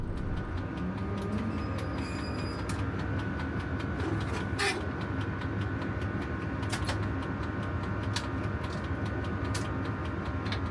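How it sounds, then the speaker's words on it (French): A CC 65500 diesel locomotive of the APPMF rolling slowly and coming to a stop, heard as a loud, steady mechanical rumble with rail squeal and brief higher whines, continuous throughout with no talking. "C'est là que la CC 65500 de l'APPMF va s'immobiliser"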